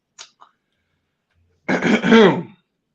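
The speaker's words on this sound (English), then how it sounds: "He had to clear his throat." A man clears his throat in two short, sharp bursts near the start, followed by a louder, rougher throat-clearing rasp that trails into a hum a moment later.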